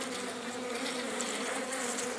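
Dense, steady buzzing of many bees at a wooden hive as frames are worked, a continuous close hum with no pauses and no talk.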